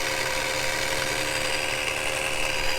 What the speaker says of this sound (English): That's a supercharger.